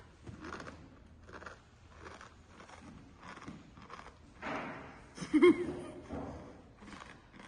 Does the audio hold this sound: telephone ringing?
no